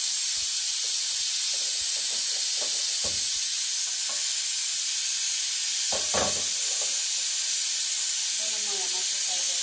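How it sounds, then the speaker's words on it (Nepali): Chicken meat fries in a pan with a steady broadband sizzle and hiss that runs throughout, broken by occasional stirring clatters and faint background voices. "नयाँ मासु फ्राई गर्छु"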